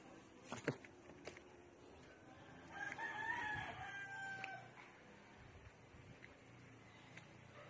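A rooster crows at a distance amid quiet rural outdoor background noise, with a brief sharp knock near the start and a few faint clucks from chickens.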